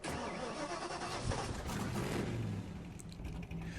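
A truck engine cranks and catches in Farming Simulator 19, then settles into a steady, close mid-pitched running rumble with no talking.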